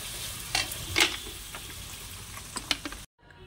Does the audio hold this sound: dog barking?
no